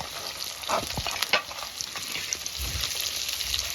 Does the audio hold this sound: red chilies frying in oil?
yes